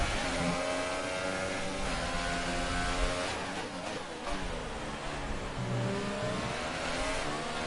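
A Formula 1 race car engine in the F1 2018 racing game roars at the Canadian Grand Prix, a loud, continuous high-pitched whine that climbs and dips through gear changes without pause.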